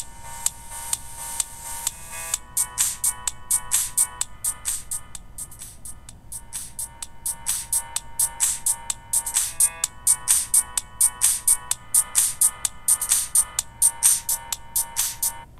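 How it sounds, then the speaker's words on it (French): A Ticwatch 2 smartwatch playing music through its tiny built-in speaker, held close to the microphone: thin, tinny tones pulse in a quick repeating rhythm throughout, fairly quiet and with nobody talking. "j'ai le choix entre la faire jouer sur un écouteur Bluetooth, mais j'en ai pas, ou sur le haut-parleur de la montre"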